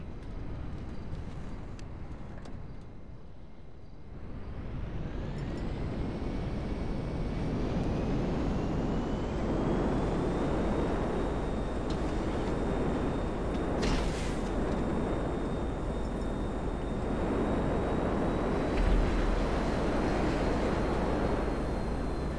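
Hydra VTOL jet aircraft in Grand Theft Auto V, a steady broad roaring engine drone that swells after a brief dip and holds loud and continuous, with a rising whine layered on top and no talk over it.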